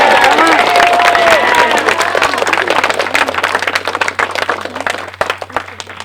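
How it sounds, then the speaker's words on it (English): An audience at a candlelight session applauds Ben with loud, dense clapping and some cheering that gradually thins out toward the end. "If you're going to applaud anyone,"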